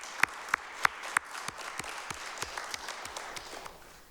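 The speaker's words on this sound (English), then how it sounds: "let's get a round of applause for that" A small gathering at a city council meeting claps briefly, with a few sharp, distinct hand claps standing out at the start before the sparse clapping trails off, fairly quiet and roomy.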